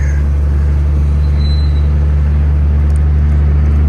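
A 1995 Dodge Ram pickup with 4.10 gears and an NV4500 manual gearbox, its engine running in a loud, steady low rumble heard from inside the cab, without talking.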